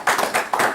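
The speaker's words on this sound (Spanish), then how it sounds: "Denle un aplauso al Señor Jesucristo." A church congregation clapping during a Spanish-language worship service, several brief bursts of group clapping in quick succession, close and moderately loud.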